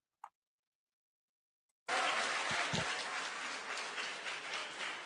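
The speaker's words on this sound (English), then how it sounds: "Please control the clapping." After near silence, an audience breaks into sudden, dense clapping that stays loud and steady to the end.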